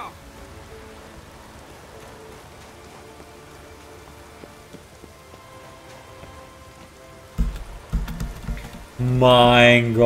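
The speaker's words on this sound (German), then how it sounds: "Jetzt echt Regen." Steady rain in the video game The Witcher 3 patters on surfaces, with a louder splash of noise and a rising electronic tone near the end.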